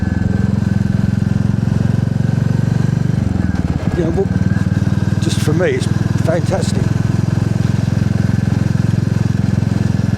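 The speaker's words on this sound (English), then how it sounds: "enjoying the sound of the motorcycle" A Royal Enfield motorcycle engine drones steadily and loudly while riding in Devon, with wind buffeting the microphone and someone talking briefly over it.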